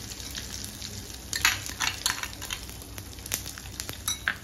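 Asafoetida sizzling in hot oil for a spicy pickle, a steady soft crackle with brief louder bursts of sputtering, close and alone with no talk.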